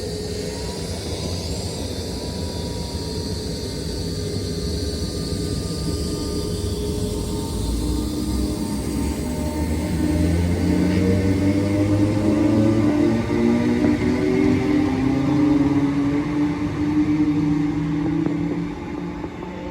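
A Class 319 electric train pulling out of Rainhill station, a loud, close, sustained rumble and whine with the motor tone rising as it picks up speed, then fading slightly at the end.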